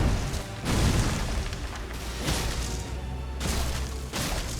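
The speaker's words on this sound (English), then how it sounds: "Surprised we haven't seen another explosion." Heavy booming blasts in Elden Ring combat, several loud broadband bursts rolling one after another with a rumbling tail between them, dense and close with no voices.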